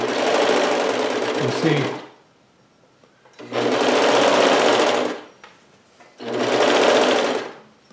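An overlock sewing machine stitches and trims shirt fabric for an Aloha Hawaiian shirt in three loud close bursts separated by short pauses, and a voice talks briefly between them.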